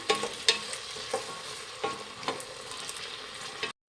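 Vegetables frying and sizzling in hot oil in a pan while cooking vegetable pulao, with steady crackle, occasional stirring scrapes and sharp pops, close and fairly loud, no talking.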